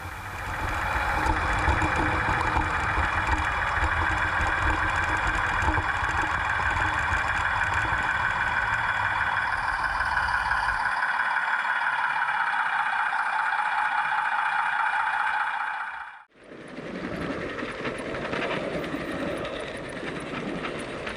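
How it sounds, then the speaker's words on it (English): A model train arriving at a bay platform at Gilwood Station rumbles and hums steadily at close range with idling engine drone, then a brief drop before the noise resumes with a different texture. "The train arrives on the bay platform at Gilwood Station."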